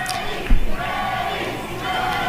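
Crowd roar from a wrestling video game arena, a steady broad wash of cheering with a brief louder swell early on, heard alone without talk.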